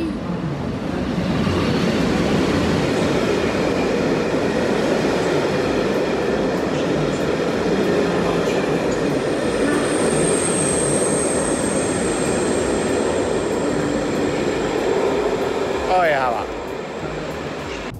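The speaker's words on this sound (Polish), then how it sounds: "Wjeżdża pociąg TLK Galicja ze stacji Ostrawa Swinów do stacji Przemyśl Główny" TLK Galicja passenger train hauled by an EU07 electric locomotive pulling into a Polish station, a steady loud rolling rumble of wheels and wagons lasting throughout and easing near the end, with a brief high whistle-like tone partway.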